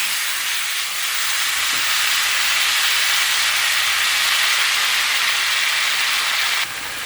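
Vegetables dropped into hot oil in a wok with bay leaves and radhuni spice give a loud, dense, unbroken hiss of frying that fills the whole stretch and eases slightly at the very end, with no talk.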